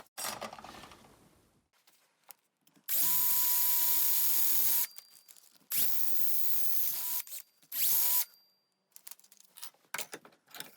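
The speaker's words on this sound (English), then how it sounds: "I'm going to drill a couple of holes in the ends of this" Power drill boring holes in the ends of a workshop-built flexi-drive holder, whining in three loud steady bursts separated by short pauses, with quieter handling clatter around them.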